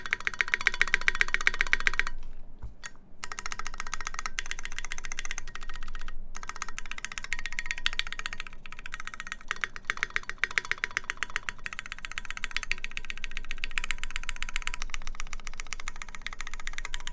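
Rapid, continuous typing on a mechanical keyboard with long pole tactile switches, GMK Dark keycaps and a case lined with liquid rubber; dense, loud clacking keystrokes run nonstop, close and alone.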